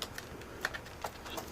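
Plastic laptop keyboard pressed and snapped into its bay, a few faint scattered clicks and taps over quiet background noise.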